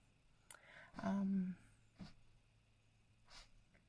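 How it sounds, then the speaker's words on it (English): Quiet, close snuffling and short breathy snorts in a few separate bursts from a pug sniffing behind a door, with silence between. "I can hear my pug outside my door sniffing away."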